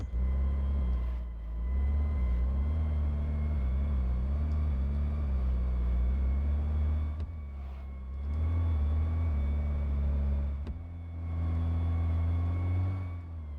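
A car with a five-speed manual transmission drives along, its steady engine drone rising and falling through gear changes, with brief lifts and drops in revs, close and continuous with no talk.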